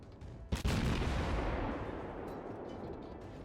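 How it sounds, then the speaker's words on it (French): Heavy naval guns of the German Tier II light cruiser Dresden fire in a World of Warships battle: a sharp loud blast followed by a long, rumbling roar that slowly fades over several seconds. "Et on va tirer à l'abri sans se faire repérer"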